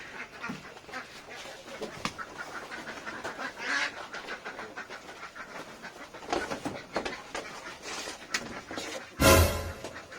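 Several ducks quack and pant in a village setting, the calls scattered across the clip at moderate loudness with rustling background and a louder burst near the end; no clear talk.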